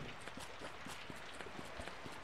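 Rain falls continuously in the Summer in Mara game, a broad steady wash with scattered sharp drop taps landing in a loose rhythm, fairly quiet and with no voices.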